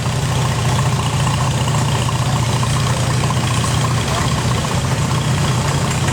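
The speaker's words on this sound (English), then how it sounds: "We've also got a 1947 Farmal H, driven by Trenton Schreihans." A 1947 Farmall H tractor engine idles in a small-town parade in Fairmont, Nebraska, a loud, steady low rumble held close and unbroken throughout.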